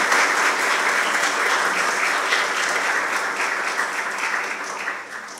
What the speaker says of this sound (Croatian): ja bih molila jedan veliki aplauz